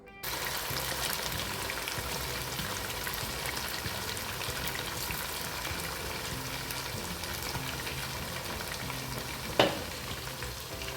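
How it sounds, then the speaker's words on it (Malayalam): Chicken pieces frying in oil until golden brown for dum biryani, a steady dense sizzle and crackle throughout, with one brief sharper clatter near the end and no voices. "2 വശവും നല്ല ഗോൾഡൻ ബ്രൗൺ നിറമായി വരുന്നത് വരെ ഫ്രൈ ചെയ്തെടുക്കാം."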